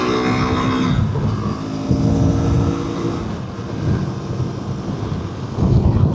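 A KTM 390 Adventure motorcycle engine held in sixth gear at about 4,500 RPM and 60 mph gives a steady, loud drone mixed with wind rush, heard close and continuous with no talk.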